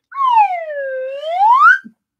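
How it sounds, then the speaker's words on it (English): A slide whistle swoops down from high to low, then glides back up again in one continuous, loud, silly tone, ending with a small click. "Now we have some awesome silly noises with my slide whistle."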